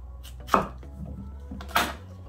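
A knife strikes a cutting board while julienning carrots for a Jamaican escovitch pepper sauce, two sharp distinct chops with quieter slicing between, close and alone.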